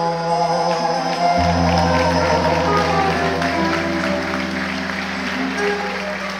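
Audience applause at a live music performance, a sustained crackle of clapping mixed under steady sustained instrumental chords and a low hum, fairly loud and continuous throughout.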